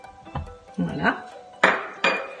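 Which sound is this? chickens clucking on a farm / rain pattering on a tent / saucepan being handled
saucepan being handled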